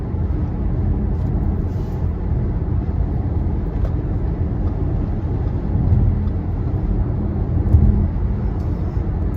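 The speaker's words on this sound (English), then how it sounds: "All these cars that are zipping past me, I'm doing 70." Steady rumble of motorway traffic heard from inside a car cruising at 70 mph, with other cars zipping past in a continuous low roar and a couple of slightly louder swells as vehicles overtake.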